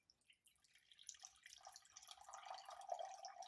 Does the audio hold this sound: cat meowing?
no